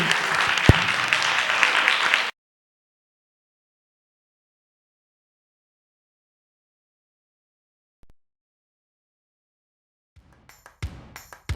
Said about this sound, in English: we'd like to give them a round of applause and thank them for coming